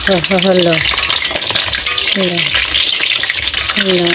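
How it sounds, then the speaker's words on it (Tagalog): Glutinous rice balls (malagkit balls) fry in oil with a loud, continuous bubbling sizzle, while a voice talks intermittently over the crackle. "Ayan, niluluto po natin malagkit balls."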